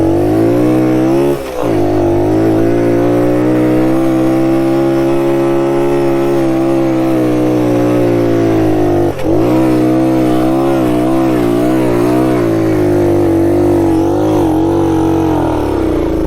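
A 1969 Honda Trail CT90 motorcycle labours up a sandy desert hill, its small engine droning loud and close with pitch rising and falling, a brief dip near the start and another mid-climb.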